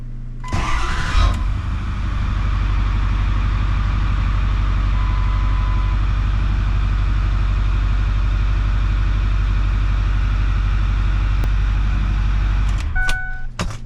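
A 6.4 Powerstroke diesel engine cranks and catches, then settles into a loud, steady, close rumbling idle with no voices, and a few short clicks and clatters come near the end.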